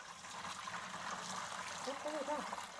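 Liquid splashes and trickles as whey is poured while making raclette cheese, a soft continuous watery pour with faint voices in the background.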